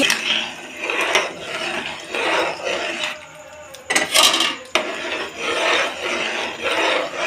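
Brinjal curry being mixed in a pan, with repeated scraping and rubbing strokes of a spoon against the metal in uneven bursts, fairly loud and close.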